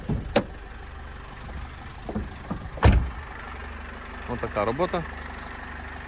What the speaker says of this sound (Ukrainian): Це Євро 5 мотор.